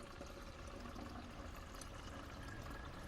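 Water pours steadily into a universal washer fluid reservoir bottle, a faint continuous splashing and trickling with no talking.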